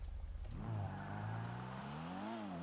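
A video game sports car driven around Los Santos, with a Jester-style engine sound, revs up and holds a loud, close, rising drone, its pitch climbing and dipping slightly toward the end; no one speaks.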